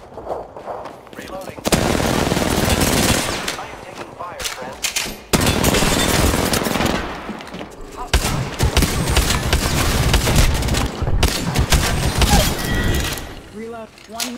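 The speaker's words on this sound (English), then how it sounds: "I am taking fire, friend." Loud sustained bursts of automatic gunfire from Apex Legends, several long volleys with brief gaps, close and dense with sharp impacts, and a voice speaking in places.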